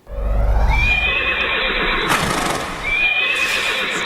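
A horse neighs loudly and at length, its whinny rising and falling over a steady rumble, with a second shorter whinny following near the end, no talking.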